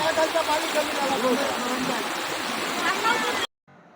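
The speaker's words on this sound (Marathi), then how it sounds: "आता तुम्ही पाहू शकता की देवळाच्या गाभाऱ्याच्या आतमधून पाणी जायला सुरुवात झाली आहे" Floodwater rushing through a village temple sanctum during heavy monsoon rain in coastal Konkan, a loud continuous gushing and gurgling that cuts off abruptly near the end.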